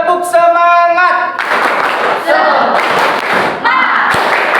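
A classroom group performs a rhythmic clapping chant for an Islamic education lesson, chanting voices alternating with bursts of sharp hand claps and thuds in a loud, close, uneven beat.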